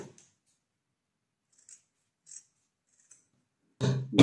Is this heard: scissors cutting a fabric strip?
yes